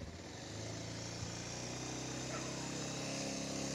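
A 220cc motorcycle engine turns over and settles into a steady idle, a low, continuous rumbling drone heard fairly quietly and close, with a faint voice over it.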